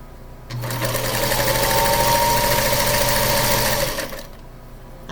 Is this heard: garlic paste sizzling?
no